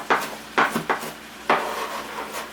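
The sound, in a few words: chopping onion with a knife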